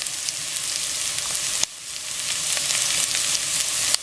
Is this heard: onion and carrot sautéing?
yes